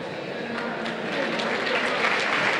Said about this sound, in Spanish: Lo aplauden por su entrega a Diego Báez.